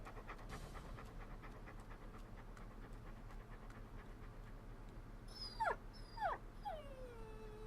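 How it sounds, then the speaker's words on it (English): A dog named Willie in the video game Deadly Premonition pants steadily and rhythmically close by, then lets out a few rising whimpers and whines near the end. "This dog's awesome."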